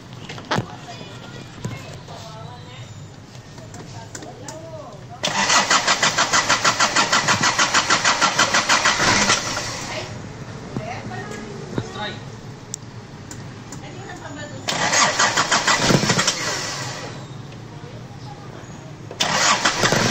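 A car engine is cranked and starts several times, each attempt a loud, buzzing whir lasting a few seconds that then drops back toward idle, with people talking nearby between the attempts.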